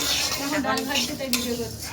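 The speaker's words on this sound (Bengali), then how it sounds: "এখন ডাল ভাজছি" Lentils for khichuri fry in a pan at a busy food shop, with a soft sizzle under scraping stirring and metal clinks close by, and a voice in the background.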